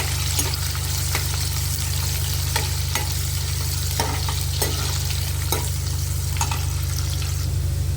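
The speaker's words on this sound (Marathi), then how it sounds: "कांदा आपल्याला चांगला परतून घ्यायचा आहे" Vertically sliced onion sautés in a pan with bay leaf and curry leaves for a vegetable pulao, a steady close sizzle broken by repeated scraping clicks of stirring throughout, with no talking.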